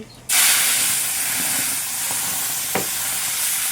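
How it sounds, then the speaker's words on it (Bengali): Onion, chili and ginger paste poured into hot oil with cumin seeds, bursting into a loud, steady close-up sizzle and hiss that starts suddenly and continues, with faint stirring clinks. "এখন আমি এখানে পেঁয়াজ, লঙ্কা, আদা বাটা সব নিয়ে নিয়েছি, একসাথে এখানে ঢেলে দিব"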